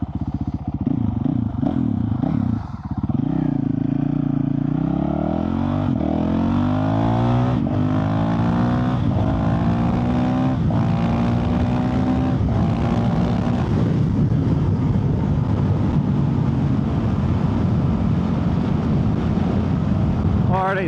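A Honda CRF450RL with a stage 2 tune ridden on a trail, its engine revving up and down through gears with rising and falling pitch, loud and close throughout.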